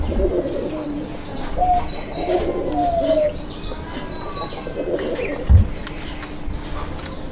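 Domestic pigeons cooing, soft repeated low coos with a few brief chirps from nearby birds, fairly close and otherwise calm with light background noise.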